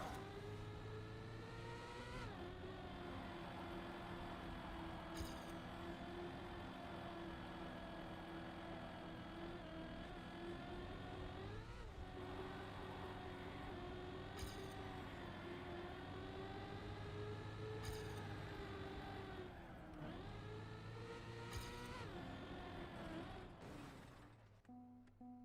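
Car engine in the racing game TrackMania drones steadily with a tonal whine, dipping briefly as it shifts or lifts off several times before cutting out at the end.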